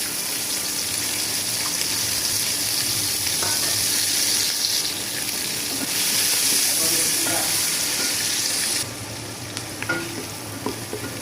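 Chopped onion, garlic and green chili frying in a hot wok, a loud continuous sizzle with stirring scrapes and clinks throughout, easing to a quieter hiss with scattered clicks near the end.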